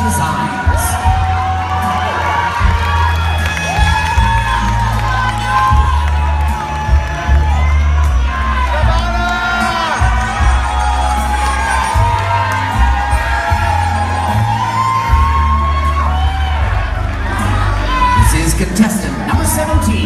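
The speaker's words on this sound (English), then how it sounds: "Please keep the applause going" Loud, sustained applause and cheering from a pageant audience as a contestant appears in her gown at a plus-size pageant, with scattered whoops and shouts rolling continuously through the whole stretch.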